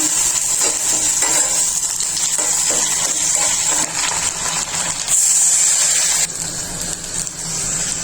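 Dried chapa shutki fish frying in a pan, a loud, steady broadband sizzle close up that continues throughout with slight surges, occasional stirring scrapes, and no talking.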